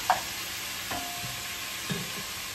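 Ground beef and onions browning in a pan for Frito pie: a soft, steady sizzle with a couple of light stirring scrapes, close and quiet, no talking.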